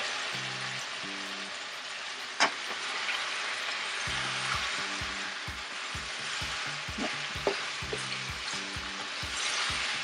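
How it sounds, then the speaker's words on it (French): Beef liver and potatoes cooking in a covered pan give a steady, close frying sizzle throughout, with a few soft clicks and taps of utensils or the lid on top. "On laisse mijoter pendant une dizaine de minutes."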